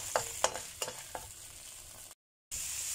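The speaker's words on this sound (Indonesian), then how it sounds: "kita masukkan bawang merah, bawang putih. Nah, kita useng sampai wangi" Shallots and garlic stir-fried in a pan for oseng ayam: a few sharp spatula scrapes and taps over a steady sizzle, then a brief silent gap before the sizzling resumes.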